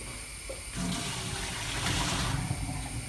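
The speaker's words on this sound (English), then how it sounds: "And we're going to get rid of this water." Water from a pot of boiled eggs being poured out into a sink, a steady splashing rush that swells midway and carries on to the end, with no voices.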